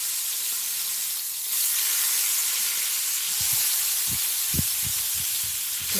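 Zucchini sizzles in a hot pan, a continuous hiss of frying punctuated in the second half by several distinct scraping knocks as the pieces are stirred.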